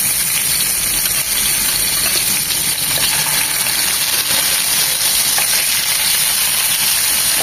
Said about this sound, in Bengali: হালকা ভাবে ভেজে নেব।